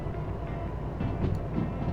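Train from the Derail Valley video game rolling steadily along rails, a continuous low rumble with faint rhythmic rattling, no voices.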